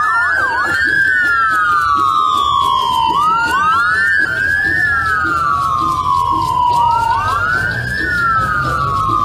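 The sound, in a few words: sirens blaring from a fleet of convoy vehicles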